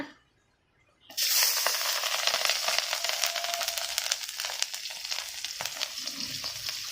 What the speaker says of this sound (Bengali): পেঁয়াজ আর কাঁচা লঙ্কা একটু ভেজে নেবো